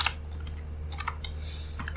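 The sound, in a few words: typing on a computer keyboard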